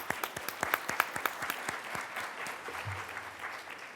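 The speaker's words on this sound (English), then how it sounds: "If you'll stand and just give her a little applause." Applause in a university gathering for an archivist, starting with sharp, distinct claps that blend into a steady patter from a modest crowd before thinning out.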